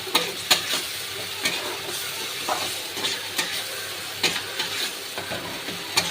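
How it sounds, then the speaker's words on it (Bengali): A spiced mixture with ground coriander is stirred in a frying pan, a continuous sizzle broken by repeated scraping strokes of the spatula at an uneven rhythm, close and moderately loud. "এবার একটু ভালো করে নেড়ে নেব"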